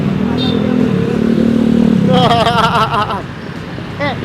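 An automatic scooter-style motorcycle idles and revs nearby with a low, throaty engine rumble, then people start talking loudly over the fading engine noise.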